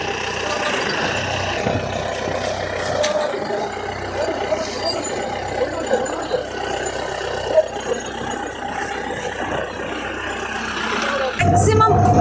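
A Maruti Gypsy 4x4 jeep driving flat out on an off-road track, its engine a steady, rough drone with rattles and knocks throughout, a brief change near the end, and voices talking over it.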